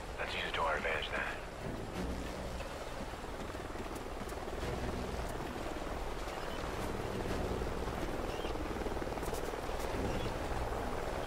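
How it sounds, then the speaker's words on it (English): A helicopter from the Call of Duty Ghosts campaign, heard in a canyon setting, gives a steady distant rotor drone and rumble under wind-like noise that persists throughout, with a brief sharper burst near the start. "Sounds like a chopper's up ahead of us."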